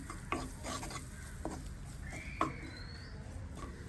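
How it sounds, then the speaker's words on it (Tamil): Flour is stirred and roasted in melted butter in a pan, a steady close scraping hiss with a few brief louder scrapes of the spoon, no voices. "இப்போ நல்லா இதை கொஞ்சம் வறுப்போம்."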